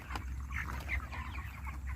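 Broiler chickens on a farm, 39 days old and weighing around 2.5 to 2.7 kg, cluck and chatter steadily and close by over a constant low hum, with several birds calling at once and no pauses.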